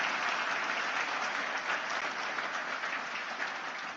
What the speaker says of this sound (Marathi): एकदा खरंच टाळ्या